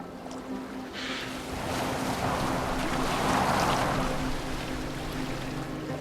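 A boat sails across open water in Assassin's Creed Valhalla, with a continuous rushing wash of water and wind that swells slightly midway and carries a low steady hum underneath.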